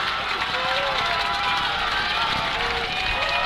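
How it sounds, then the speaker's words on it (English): A home football crowd at Jones stadium roars loudly and steadily throughout, a dense wash of cheering with scattered shouts and whistles, like a packed stand stirring during a fourth-down moment. "And the Jones crowd comes to life. They're kind of shaking the whole floor here."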